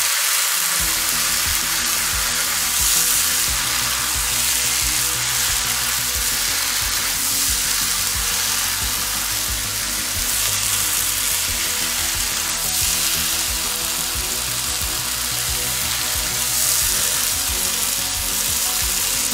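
Cabbage frying with spices in a pan, a dense, loud continuous sizzle that barely varies, with soft stirring movements underneath and no speech.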